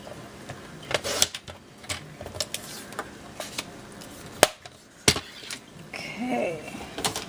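Paper is cut for a handmade sympathy card: scattered sharp clicks and brief snips close by, separated by quiet pauses.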